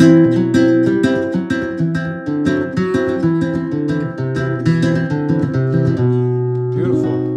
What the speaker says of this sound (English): in flamenco music, there's a technique called alzapua